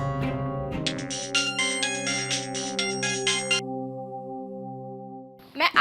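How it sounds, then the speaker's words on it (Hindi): A mobile phone plays a melodic ringtone of repeated tonal phrases at moderate volume, then it stops and a brief rustle follows. "आपका फोन आ गया"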